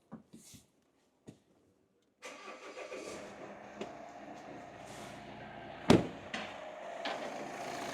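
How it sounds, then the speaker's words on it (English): A Volvo XC90 engine, just repaired after a blocked DPF and boost fault, starts up and settles into a steady idle heard close by, with a few clicks and a sharp knock partway through. "We have the engine running nice and smooth."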